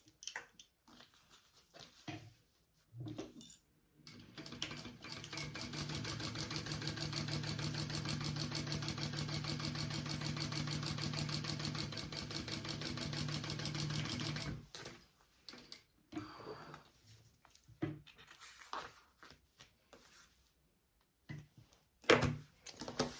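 A sewing machine runs in one steady, fast-stitching burst of roughly ten seconds while top stitching a pocket on a sling, with quieter handling clatter before and after.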